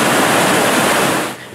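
A waterfall roars as a loud, steady rush of falling water for the whole clip, then drops off slightly near the end, with no voices.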